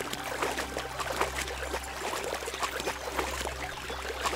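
A horse wades through deep water in the video game Kingdom Come: Deliverance, making continuous sloshing and trickling splashes with a low steady rumble underneath.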